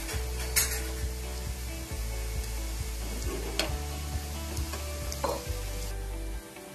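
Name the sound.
lentil dumplings frying in oil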